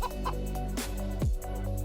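Chicken clucking stands alone in a short burst of several close, loud clucks with a rising squawk near the middle.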